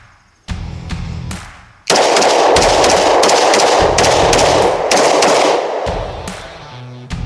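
A Glock 20 Gen 5 10mm handgun fires about eight or nine loud, sharp shots close by, the first two spaced apart and the rest in a rapid, evenly paced string, with no talking.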